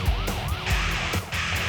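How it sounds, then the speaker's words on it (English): Police car sirens wail during a high-speed pursuit, a loud rising-and-falling cycle repeating over the steady rumble of the moving car, with no voices over it. "Police sirens and flashing red and blue lights are having little effect"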